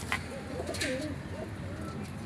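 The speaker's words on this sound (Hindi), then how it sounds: "बड़ा कबूतर है माशाल्लाह" A large pigeon coos in a few low, rolling phrases close by, with a brief flutter or click near the start and steady background noise.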